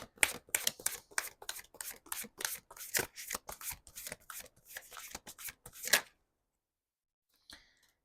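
Tarot cards being shuffled by hand, a quick run of crisp riffling snaps and flutters close to the mic for several seconds, then near silence with one last short card sound.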